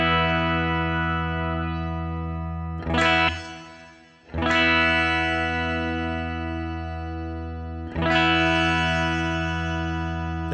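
A guitar run through a Headrush reverb at a low mix rings out in sustained chords, struck three times, each strum decaying smoothly with a soft tail of ambience and no talk.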